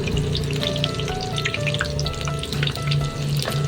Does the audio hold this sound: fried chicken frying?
yes